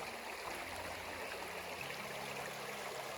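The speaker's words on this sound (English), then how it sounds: "babbling brook" Gentle water babbles and trickles steadily, a soft continuous rush of a small creek at a campsite, fairly quiet with no voices.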